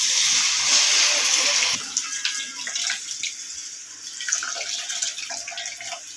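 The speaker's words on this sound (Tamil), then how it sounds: "இப்போ நம்ம புளி தண்ணி ஊற்றிக்கலாம்." Tamarind water is poured into a pan of fish curry masala for vaval (pomfret) fish kulambu, a continuous splashing pour that then gives way to softer trickling and bubbling.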